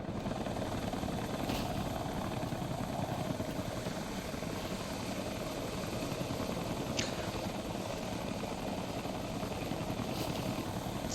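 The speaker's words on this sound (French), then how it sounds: "Sacré hélico, ma parole." A helicopter engine runs continuously, giving a steady loud rotor and turbine roar throughout with a few faint higher clicks over it.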